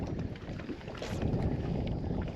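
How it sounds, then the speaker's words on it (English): Wind blowing on a high, muddy river during a bass fishing tournament, a steady low rumbling buffet across the microphone from a boat, continuous and fairly loud with no talking. "the wind is blowing, making it a little bit more difficult"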